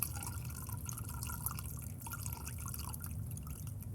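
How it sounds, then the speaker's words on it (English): Liquid poured through a funnel into a canning jar in a kitchen, a continuous close trickle with scattered drips over low background rumble, no talking. "I'm pouring into the funnel."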